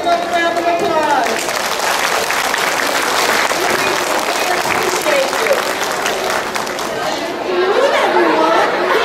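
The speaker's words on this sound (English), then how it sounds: "let's give our parents another round of applause" Loud, sustained applause from a school assembly crowd fills the whole stretch, with cheering and chatter mixed into the clapping.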